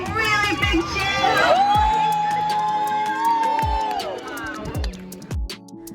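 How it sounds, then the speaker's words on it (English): An audience cheers and whoops at a sea lion show at West Midlands Safari Park, with children shouting among the crowd and a long whistle-like tone sounding mid-clip, all close and lively. "When he gets to the end, give him a really big cheer."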